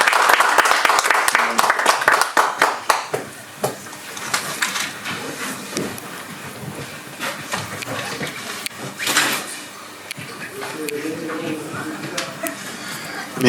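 Audience applause welcoming a professor to the microphone at an inauguration event in Paris, dense clapping that thins into scattered claps with voices and room noise mixed in.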